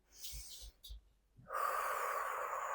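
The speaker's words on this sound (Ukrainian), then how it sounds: "вдох через нос, видих через рот, довгі, концентровані видихи" A person breathing deeply while seated before a meal, drawing air in through the nose and letting it out through the mouth: a few short sniffs and gasps, then a long, steady exhale that continues close and clear to the end.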